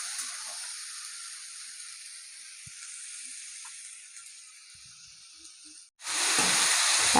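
Potatoes and bean seeds fry gently in a pan with a soft, steady high hiss that fades slightly, then a sudden louder burst of sizzling near the end.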